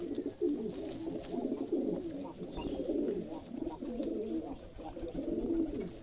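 Rajshahi Giribaj pigeons coo in repeated low, throaty rolls, several birds close together in a loft in Shibganj, Chapainawabganj, with a soft background hum throughout.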